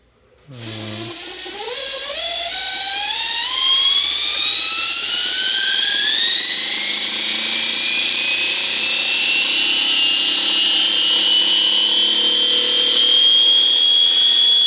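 Electric motor of a YerfDog Spiderbox go-kart converted to electric power, whining loud and close as throttle is slowly increased, the pitch climbing steadily then holding high, with no speech.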